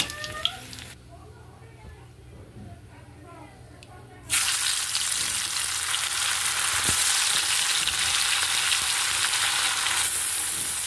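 Parshe fish frying in oil sizzles loudly and steadily after a quieter opening, the hiss rising suddenly and holding at close range.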